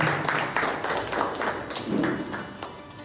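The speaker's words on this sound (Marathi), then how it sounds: "जोरदार टाळ्या" Applause from an audience at a calendar launch ceremony, welcoming a guest: a close, fairly loud wash of clapping with some distinct sharp claps and thumps, running steadily for about three seconds without speech.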